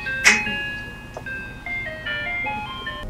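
An ice cream truck plays its chiming tune, a bright electronic melody of sustained single notes after a sharp opening chime, steady and fairly loud.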